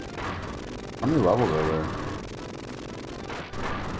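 Grenade blasts in the Genesis game Rambo III: a volley of booming, gunfire-like bursts, loudest around the middle, runs beneath a voice.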